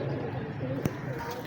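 Golden pigeons coo softly in short, low murmurs at close range, with a person's voice talking over them for much of the brief moment.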